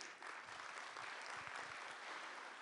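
Audience applause fills a science museum hall during an evening event, a steady dense wash of clapping from a large crowd held at even level throughout, fairly distant and without cheering.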